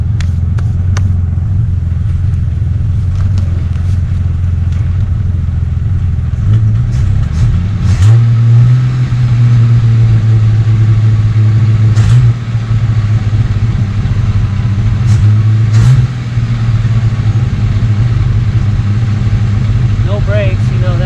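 An old 1969 Ford Falcon engine rumbling low and steady, revving up around the middle, with a few clanks and knocks over the idle.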